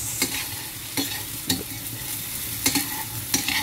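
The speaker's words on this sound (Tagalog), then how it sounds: "I-mix ko siya ng bonggang-bongga. Para hindi siya masunog." A frying pan of potato and eggplant is stirred vigorously, with spoon scrapes and clanks every second or so over a steady sizzle, close and fairly loud, with no voices.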